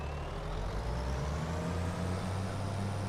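Deutz-Fahr tractor engine in a farming video game, a steady low droning hum holding constant throughout, close and alone with no talk.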